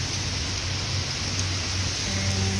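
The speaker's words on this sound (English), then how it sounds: "really getting drenched in the rain." Heavy rainstorm rain pours down onto hoya plants outdoors, a dense, steady hiss of drops close by, with a low rumble underneath and no voices.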